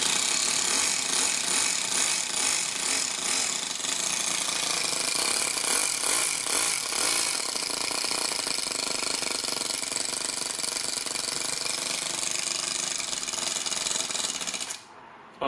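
A Toyan FS-S100A miniature four-stroke engine running nonstop with a buzzy, rattling mechanical drone, close by and loud, that cuts off abruptly at the end.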